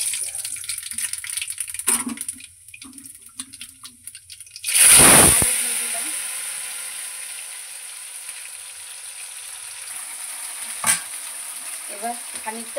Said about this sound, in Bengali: এবার কড়াতে আমি কালো জিরে ফোড়ন দিয়ে দিলাম।